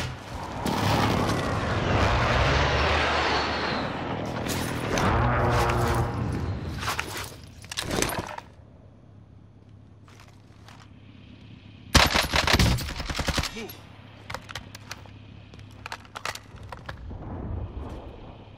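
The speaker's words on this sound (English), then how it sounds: "Be advised, friendly precision airstrike inbound." Sustained machine-gun fire and heavy booms of a friendly precision airstrike in a video game, loud and dense for the first eight seconds, then quieter, with another sharp burst of explosions around twelve seconds.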